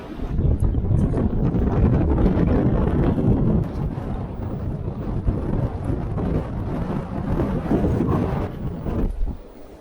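Hurricane wind (Hurricane Elsa) battering a boat at anchor in a bay, a loud, continuous roaring buffet with gusty rumble hitting the microphone throughout.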